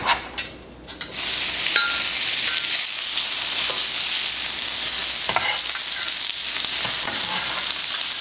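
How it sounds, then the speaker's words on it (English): Loud, continuous sizzling of cheesesteak meat frying on a hot griddle, with occasional metallic scrapes and clinks, starting after a brief quieter moment. "It's gonna sizzle at you a little bit."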